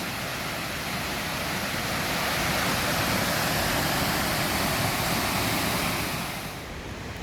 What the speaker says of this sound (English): Look at the way the 2 waterfalls cross.